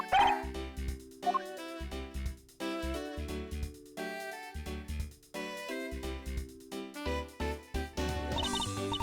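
Missile, the police dog in the game Ace Attorney Investigations, gives a run of short, bright barks and yips in a bouncy, rhythmic sequence, clear and upfront with no talk over it.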